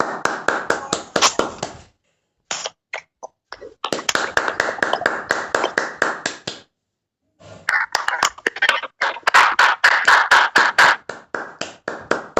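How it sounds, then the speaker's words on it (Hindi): An audience at an indoor success-story event claps loudly to welcome a speaker to the stage. The applause comes in dense, sharp bursts separated by brief silent gaps, and there is no talk over it. "सबसे पहले आप सभी एक बार जोरदार तालियां बजा दीजिए उनके लिए।"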